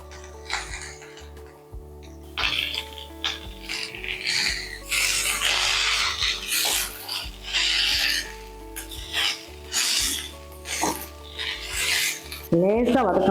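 Fresh mint leaves are stirred in a hot pan while cooking a mint chutney, a repeated close scraping and rasping of a spatula against the pan bottom with a low background hum.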